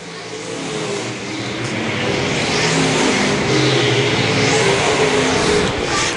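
Stock cars in a short-track main event roar down the front stretch, a loud continuous engine drone that builds and holds as the pack passes close by, with no talk over it.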